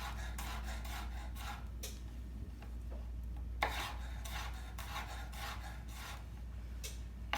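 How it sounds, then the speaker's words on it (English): Garlic cloves halved and sliced into small pieces with a knife on a wooden cutting board, giving a steady run of soft, close scraping cuts with a low background hum. "it's best just to cut the garlic in half and then make small slices"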